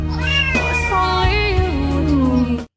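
A young cat gives one long, loud, wavering meow up close, rising and bending in pitch for over two seconds before cutting off abruptly, with no voices.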